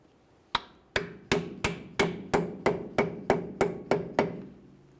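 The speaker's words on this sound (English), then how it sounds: "Now we can tap this into place." A hammer taps a brake caliper part into place on a 1998-2011 Ford Ranger front brake job. Eleven crisp metallic strikes land close by in a steady, slightly quickening rhythm, with no voices.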